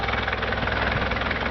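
A tractor engine in a farming simulation game runs as a steady, loud mid-range drone with a rough idling rumble, close and continuous with no talk.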